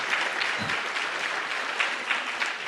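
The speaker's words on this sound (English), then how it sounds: "let's give them a round of applause" A room full of people applauding, steady dense clapping that holds at an even level throughout.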